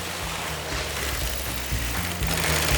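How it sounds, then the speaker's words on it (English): Industrial sewing machines stitching PVC bouncy castle panels, a steady low mechanical hum with a buzzing motor tone that rises and falls slightly, continuous with no talk. "can you hear the sound of the sewing machine?"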